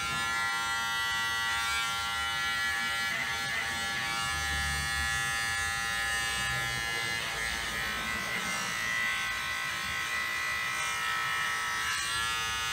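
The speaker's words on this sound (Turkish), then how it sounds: "Çırağım beni tıraş ediyor." Electric clippers buzz steadily and close up as an apprentice barber shaves a customer in a barbershop, a continuous unbroken hum throughout.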